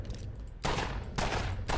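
Bursts of rapid automatic gunfire in the video game State of Decay 2, two loud dense volleys close together after a quieter lead-in, with no voices over them.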